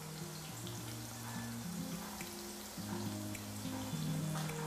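Slices of ripe banana fry in hot oil for chips, giving a steady, soft crackling sizzle up close, with a faint low hum underneath and no speech.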